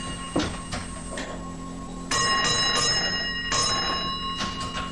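A vintage railway key token instrument on a preserved single-line railway rings out bell codes, several sharp metallic strikes in short groups, some close and loud, with a steady ringing tone beneath.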